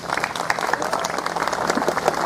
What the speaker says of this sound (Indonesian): tepuk tangan untuk Desa Cinta.